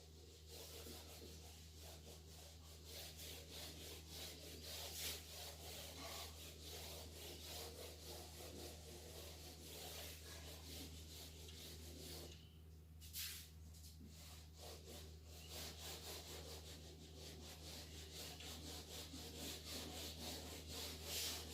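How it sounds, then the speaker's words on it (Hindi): Steady scrubbing of a duster or eraser rubbing across a classroom board during a physics lesson, a continuous, fairly soft rasp with a faint low hum underneath and no talking. "ऊपर से मैं रब कर रहा हूं"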